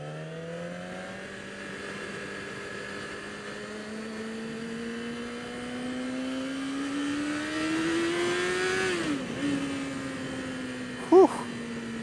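A Yamaha motorcycle engine, either an R6 or FZ-07, pulls steadily in second or third gear on a ride, its tone climbing smoothly over several seconds with wind rush, then a brief shift dip and a short sharp knock near the end.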